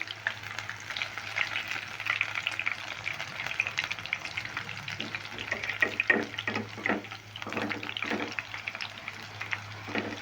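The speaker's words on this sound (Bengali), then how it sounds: "আঁচটা মিডিয়াম রেখে ভাজবে তাহলে খুব ভালো ভাজা হবে" Potato snacks frying in medium-hot oil, a steady crackling sizzle with intermittent stirring and scraping through the middle, close and continuous with no talk.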